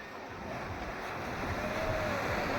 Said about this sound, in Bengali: জোরে ঢেউ আসছে।